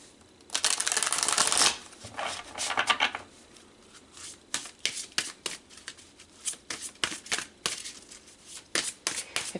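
A deck of tarot cards is riffled in a loud, close burst, then shuffled again more softly. Scattered snaps and taps follow as the cards are handled and squared, and no one speaks.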